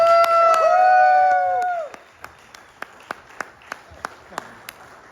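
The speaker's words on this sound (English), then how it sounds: "you want to give everybody a round of applause again?" Applause and cheering from a convention audience after a live script reading of a comedy audio drama, loud and full at first, then fading out about two seconds in, leaving a few sparse scattered claps.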